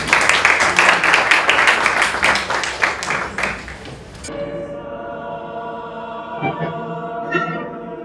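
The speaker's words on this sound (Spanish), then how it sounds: "Un aplauso para ustedes." Audience applause closing an evening continuing-education lecture in Spanish, dense clapping for about four seconds that cuts off abruptly, leaving quiet room tone with faint scattered sounds.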